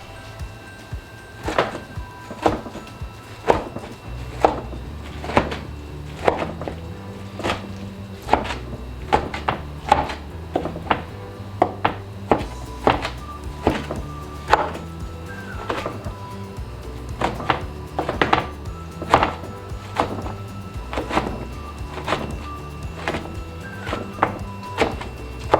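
Roast pork for a Philly-style sandwich is chopped on a wooden board with a knife, a long run of sharp, fairly regular thunks, close and clear, with a brief pause partway through.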